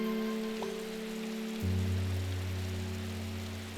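Rain falls in the video game Strange Horticulture 2, a soft steady patter over a sustained low musical drone that deepens partway through, with no talking.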